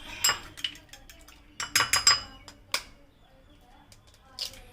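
Two eggs are beaten in a bowl with quick bursts of clinking, tapping strokes that come in short clusters separated by quiet gaps.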